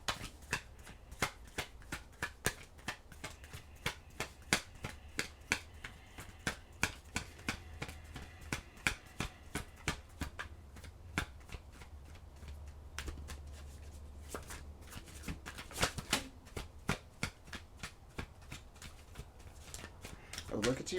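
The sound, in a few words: shuffling tarot cards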